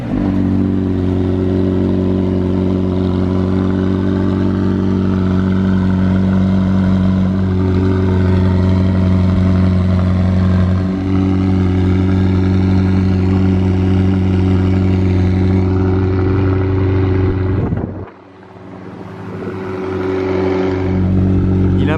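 A McLaren Elva sports car in Monaco holds a steady, loud idle with a deep even drone, then the engine note briefly dips and picks back up near the end, with no talk over it.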